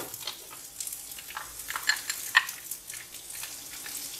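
Chopped onion hitting preheated olive oil in a pan for huitlacoche a la mexicana gives a soft, fairly quiet sizzle with scattered small crackles and a spatter, and no one talks over it.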